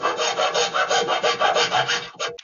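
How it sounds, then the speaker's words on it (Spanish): Hand sanding and filing of a carbon fiber bicycle frame dropout, a rhythmic back-and-forth rasping in quick strokes, close and steady, ending with a few scattered scrapes. "nos vamos a servir con lijas y limas"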